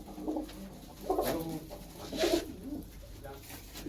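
Pigeons at a village home give a few soft, low coos in separate bursts, close by, with a voice talking over them.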